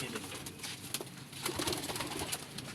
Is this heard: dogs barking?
no